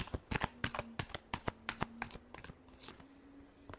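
A deck of tarot cards is shuffled up close in quick, flapping bursts, a rapid run of crisp card slaps that softens toward the end.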